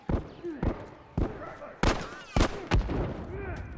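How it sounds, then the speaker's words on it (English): Gunshots crack in The Last of Us Factions multiplayer, several loud separate shots spaced irregularly over a few seconds, mixed with other game sounds. "that Trojan there, he's just laying in bullets"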